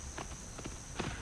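A horse's hooves clip-clop on ground in the northern Kalahari desert, a few close, loud irregular knocks over a constant high hiss.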